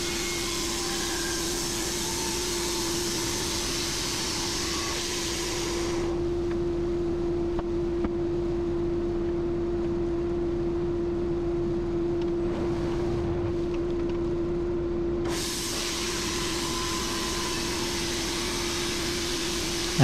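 A Woodmizer LT15 bandsaw mill cuts through an oak log with a constant droning engine hum and a broad hissing blade noise that dips and rises partway through the pass.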